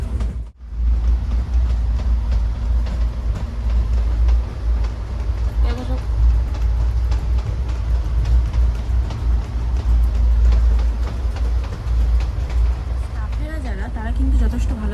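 A passenger train running at speed, heard from inside a carriage: loud, constant low rumble and rolling roar with faint rhythmic clatter throughout, after a short dropout at the start.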